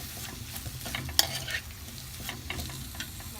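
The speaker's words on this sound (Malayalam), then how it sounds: "2 ചെറിയ തക്കാളി, പഴുത്ത തക്കാളി അതും കൂടി അതിലേക്ക് ഇട്ടിട്ട് ഈ തക്കാളിനെ നന്നായിട്ടൊന്ന് കുഴഞ്ഞ് വരണം" Ripe tomatoes frying in a clay pot for village-style chicken biryani sizzle steadily while a utensil stirs and scrapes in short irregular strokes close by.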